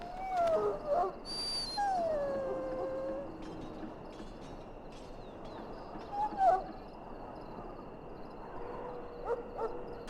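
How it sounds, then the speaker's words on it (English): A dog in the Dragon Age: Origins game whimpers and gives short rising howls and yips, fairly close and moderately loud, over a steady ambient game background with a few faint clicks. "Now I can treat the dog properly, poor fella."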